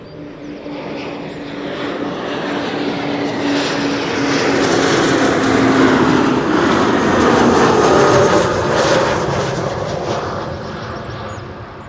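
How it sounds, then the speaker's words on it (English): A KLM Embraer 190 jet airliner arriving at Schiphol Airport roars past overhead, its engine noise swelling to a loud peak and then fading slightly, with no talking. "Next up, Embraer 190 arriving from Geneva, KLM flight 1930."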